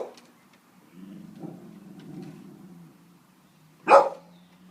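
A dog barks at a bird on a roof outdoors: one sharp, loud bark near the end, after a lower, softer growl or whine, with a short yip at the start.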